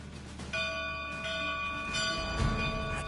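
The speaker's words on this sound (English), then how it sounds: "All that remains is to ring the bell." A church bell rings in the video game Dragon's Dogma 2, with a steady sustained metallic tone and a second strike about halfway through over a low ambient background, with no voices.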